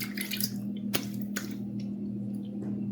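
A razor, a Focus EVO, rinsed under running water while shaving: steady trickling with a few sharp taps and drips against a faint constant hum.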